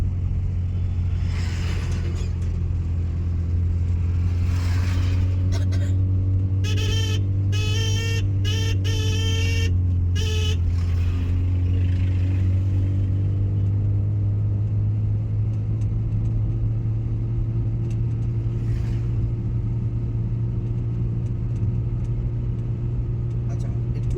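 Steady low car engine hum and road rumble at slow speed on a main road during a driving lesson, continuous throughout, with an instructor's voice talking over it.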